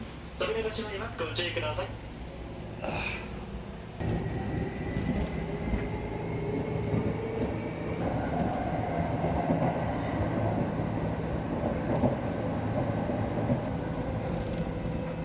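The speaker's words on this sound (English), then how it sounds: "Pretty quiet on this train." Inside a moving train in Kyoto, Japan: a low steady rumble and rolling rail noise, with a few brief sounds near the start, then a smooth ongoing ride.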